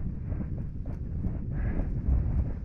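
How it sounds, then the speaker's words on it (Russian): Gusty wind blows in open country under glowing clouds, a rough, rumbling buffeting against the microphone that swells and eases in irregular surges, moderately loud with no speech. "ветрено."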